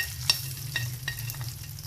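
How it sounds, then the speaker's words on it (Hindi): Steady hot-oil sizzling of spices tempering in desi ghee for aloo palak, with a few small pops and crackles, close up and without talk. "साथ में इसके ऊपर लगने लगा है मज़ेदार सा तड़का देसी घी का"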